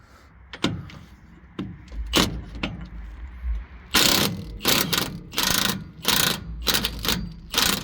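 Socket wrench with a 24 socket ratcheting on a nut of a front steer axle shock absorber on a Kenworth W900 truck, giving repeated close clicking strokes in irregular bursts, louder and faster in the second half.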